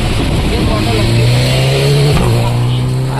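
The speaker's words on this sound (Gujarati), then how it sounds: "બાઈક જેવું નીકળ્યું" A bike-like vehicle passes close by, its engine note a steady loud drone that rises slightly in pitch and then drops as it goes past, with people talking over it throughout.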